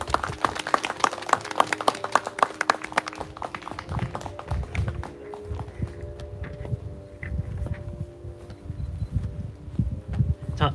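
Applause from a gathered crowd at an outdoor Korean memorial ceremony: dense, brisk clapping that gradually thins into scattered claps and shuffling, with a low murmur and some footsteps underneath.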